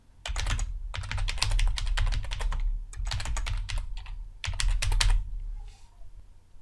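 Bursts of rapid clicking keystrokes on a computer keyboard, close and steady, with short pauses between runs of typing and no voices.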